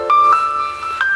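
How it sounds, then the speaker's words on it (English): A phone ringtone plays a short, clear melodic tone sequence, loud and close, with a few sustained beeping notes over about a second. "a nice ringtone, eh? It makes you want to have a nap."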